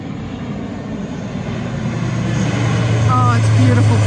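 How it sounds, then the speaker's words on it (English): A large airplane passes overhead, its broad engine roar steadily growing louder and closer, with people talking excitedly beneath it. "Oh, it's a beautiful plane"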